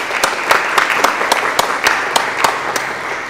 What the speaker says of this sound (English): could I have a round of applause for these wonderful people who took their time?